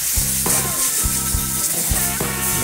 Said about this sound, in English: gonna go ahead and put a nice sear on it